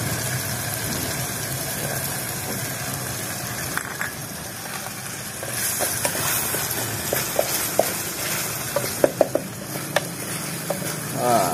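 Chili frying in a pan while cooking outdoors, a steady loud sizzle with soft stirring scrapes and a few sharp pops and crackles toward the end, with no talking.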